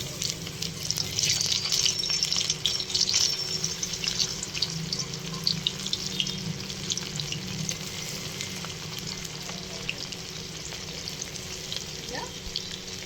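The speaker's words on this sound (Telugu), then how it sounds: "కలుపుకుంటూ సిమ్లో సిమ్లో పెట్టుకొని వేయించుకోవాలి" Sweet corn kernels frying in hot oil on a low flame, a steady close bubbling sizzle with faint crackles and occasional stirring scrapes throughout.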